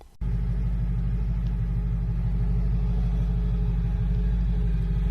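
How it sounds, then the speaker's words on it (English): A 60-year-old car with a Powerglide automatic transmission drives along. A low, steady engine rumble and a droning transmission whine come in abruptly after a brief quiet moment and hold evenly to the end. "No mistaking that old Power Glide whine, is there?"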